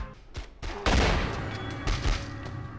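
Gunfire from enemies in The X-Files: Resist or Serve, heard as a quick burst of several sharp shots and thumps in close succession, loud and up front with game ambience around them.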